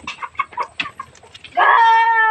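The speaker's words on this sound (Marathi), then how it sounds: "बघ किती कोंबड्या आल्या." Chickens cluck in quick, choppy bursts, then one bird lets out a long, loud, drawn-out call.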